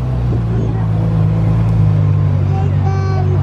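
Ferrari 430 Scuderia and Ferrari F12 TDF driving past one after the other on a Monaco street, a loud steady engine drone with rising whine near the end, people talking faintly underneath.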